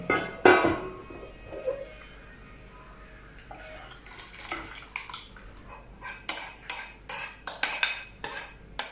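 Metal pots and utensils clink and clatter while cooked rice is moved into another pot, a run of sharp, close knocks and scrapes that grows busier and more rhythmic toward the end.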